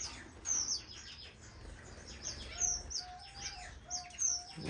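Strawberry finches (waxbills) in an indoor bird room give high, thin chirps in short repeated bursts alongside a soft repeated mid-pitched call, faint and close, with no talk.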